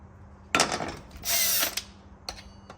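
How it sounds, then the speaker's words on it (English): A wrench works a muffler bolt loose on a Stihl 201 chainsaw, giving short metallic ratcheting and scraping bursts: one sharp onset, a sustained grinding stretch, then a brief final click. "I'll use my wrench here. Pull that bolt off"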